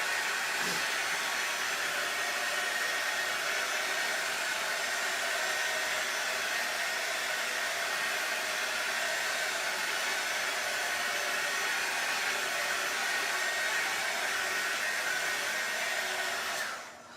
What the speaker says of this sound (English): Let's give it a quick little blast on my heat gun just to make sure that there's nothing still wet here